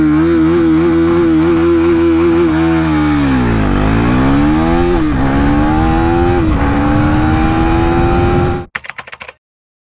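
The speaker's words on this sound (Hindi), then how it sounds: "आज टाइम आ चुका है नई KTM Duke 390 को चलाने का" A 2024 KTM Duke 390 motorcycle engine runs loud and close while riding. Its note climbs and drops through revs and gear changes, then cuts off abruptly near the end.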